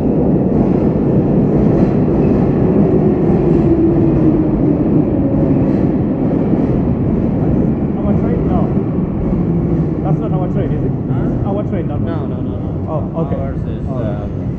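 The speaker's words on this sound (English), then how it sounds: "I think our train is here." A Novosibirsk metro train pulls into a Siberian underground station with a loud, close roar and a descending whine as it slows, while voices murmur faintly in the background.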